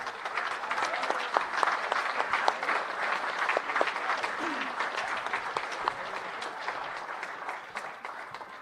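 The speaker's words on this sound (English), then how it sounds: "Please give them a round of applause one more time." An audience applauds steadily at a hall of fame awards ceremony, with sustained clapping from a large crowd filling the room and a little voice underneath.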